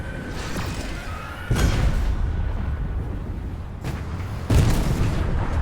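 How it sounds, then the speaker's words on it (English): Gunfire from an enemy player in Fortnite, heavy booming shots landing in a few loud bursts over steady game ambience, no talk. "He's shooting at me."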